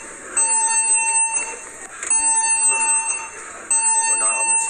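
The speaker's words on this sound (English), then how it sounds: "the fire alarm went off right while we were out in the swimming pool area" A fire alarm sounds aboard a cruise ship near the swimming pool area, loud repeating electronic tones in bursts with short gaps between them, while people talk under it.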